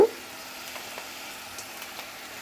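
Chopped onions and garlic frying in oil in a pan give a steady, even sizzling hiss with a few faint crackles, close and continuous with no voices.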